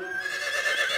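A cartoon horse gives one clear, close neigh lasting about a second in a Fisher Price Little People episode, bright and shrill with a rising whinny quality.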